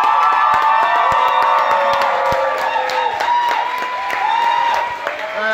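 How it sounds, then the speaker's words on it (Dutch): Crowd applause mixed with cheering and children's shouts at a hockey club anniversary performance in a tent, loud and continuous throughout with lively voices rising over the clapping. "Een heel groot applaus."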